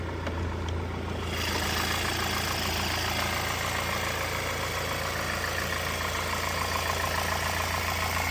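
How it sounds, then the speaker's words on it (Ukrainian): A 2009 Volkswagen CC engine idles smoothly and evenly, a steady low hum that starts after a brief quieter moment and continues unchanged, no voices. "Рівна робота мотора."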